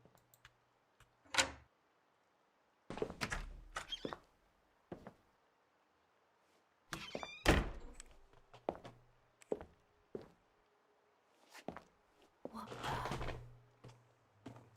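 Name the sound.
door opening in a video game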